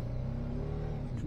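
A motorbike engine labours on a rough jungle track near Panna, a steady low rumble throughout with someone talking over it.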